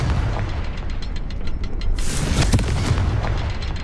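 A Confringo spell in the Hogwarts Legacy video game sets off a loud booming explosion, a sharp burst followed by crackling debris over a steady low rumble.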